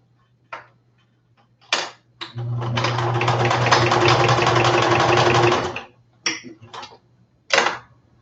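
A sewing machine stitches a curved seam in one loud continuous run of rapid mechanical whirring lasting about three seconds, bracketed by a few short stop-start bursts of stitching and clicks.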